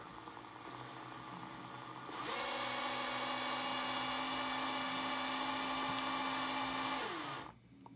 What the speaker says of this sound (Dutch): Dus zet hem in je boormachine